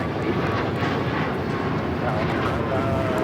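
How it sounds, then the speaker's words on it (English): An American Airlines Boeing 737 MAX 8 jet taking off at Los Angeles airport: a continuous broad, rushing engine roar at a moderate distance, with faint voice chatter underneath. "2308 taking off to Raleigh-Durham on the MAX 8"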